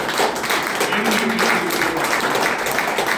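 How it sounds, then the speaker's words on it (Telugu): Audience at a mass leadership training program for BC youth clapping together, a dense, steady burst of applause close by, with voices mixed in. "ఒకసారి గట్టిగా ఈ రెండు చేతులతోని చప్పట్లు కొట్టి"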